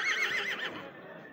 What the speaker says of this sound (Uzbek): boqilgan otlar bor ekan